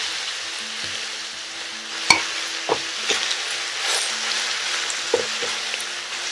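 Chunky vegetables with thyme and scallion sizzle steadily in a large pot on high heat, with a few sharp utensil knocks and scrapes as they are stirred.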